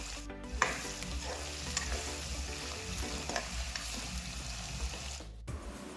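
Ginger and turmeric fry in hot oil while a spoon stirs the pan for Punjabi-style rajma masala, giving a steady soft sizzle with scraping strokes, close and fairly quiet.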